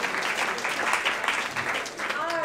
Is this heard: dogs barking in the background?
no